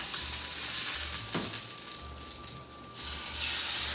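A 300 gram sirloin steak sizzling in a hot pan just after being flipped, a steady frying hiss with a soft clatter partway through, fairly quiet overall.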